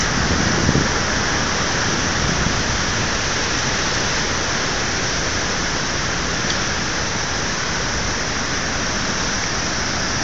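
Floodwater from heavy rain in Norway rushes loudly, muddy and overflowing past a dam, a dense, unbroken roar of water that holds steady throughout.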